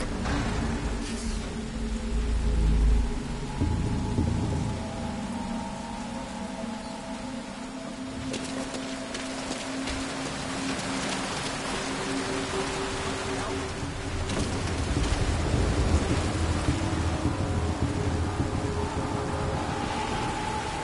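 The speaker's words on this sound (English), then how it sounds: "That rain just won't let up." Heavy rain hisses steadily throughout a stormy night scene in Metal Gear Solid V: Ground Zeroes, with low rumbles of thunder swelling now and then beneath the downpour.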